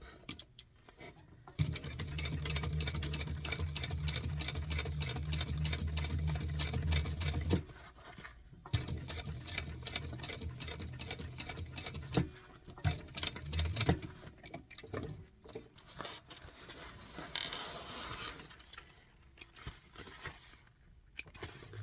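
A sewing machine topstitching a garment seam, its rapid needle chatter running steadily for a few seconds, then stopping and restarting in shorter bursts amid light handling clicks.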